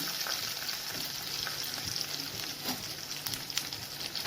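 A tempering of dried red chillies, green chillies, asafoetida and fenugreek seeds frying in hot oil for a cucumber chutney: a quiet, continuous sizzle with faint crackles and a small clink near the end.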